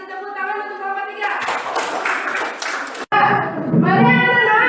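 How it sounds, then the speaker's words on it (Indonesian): A classroom of students applauding a group after its presentation, a dense wash of clapping over roughly two seconds with voices and chatter before and after. "Kasih tepuk tangan untuk kelompok 3."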